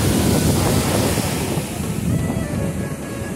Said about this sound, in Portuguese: Tá um pouco alta hoje, maré. Muito alta. Olha as ondas.